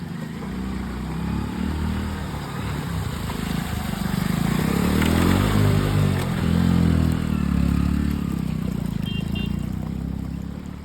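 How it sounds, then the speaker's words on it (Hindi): A motorbike rumbles through a shallow water crossing near a closed railway track, its engine building and holding close for several seconds with faint trickling and clatter. "मस्त एक बाइक आ रही है सामने से।"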